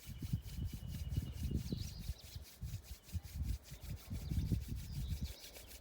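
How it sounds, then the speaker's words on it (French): Two palms rubbing briskly against each other in a Qigong self-massage, a steady close swishing friction with rhythmic pulses of strokes throughout, no talking. "on frotte les mains, les paumes l'une contre l'autre"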